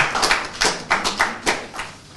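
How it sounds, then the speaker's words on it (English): Audience applause for a professor at an investiture and induction ceremony, a few hands clapping in a slow, uneven rhythm, fairly close and moderately loud. "Celebrate Prof with a very big round of applause, please"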